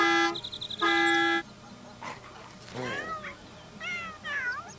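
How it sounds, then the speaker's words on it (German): A school bus horn in The Sims 3 gives two short, loud honks, followed by several cat-like meows and chirps. "Wer hupt denn da? Der Schulbus für die Uschi."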